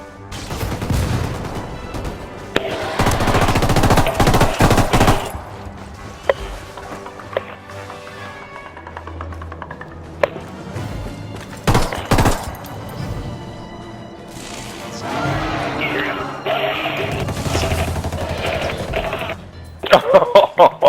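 Repeated bursts of automatic gunfire from Ghost Recon Wildlands cut down rebels, loud and chaotic, with sharp cracks and crashing impacts scattered across a long, busy stretch of game combat.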